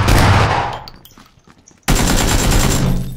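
A shotgun blast in PlayerUnknown's Battlegrounds booms loud and close, then decays over about a second. After a short near-silent gap a second heavy burst of gunfire hits and keeps going.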